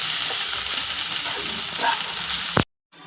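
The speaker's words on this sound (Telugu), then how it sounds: "ఇప్పుడు ముందుగా నానబెట్టుకున్న పోహా మనం ఇందులో వేసుకోవాలి. వేసుకొని బాగా కలుపుకోవాలి." Soaked poha tossed into a hot pan and stirred, giving a steady close sizzle with faint scraping that cuts off abruptly near the end.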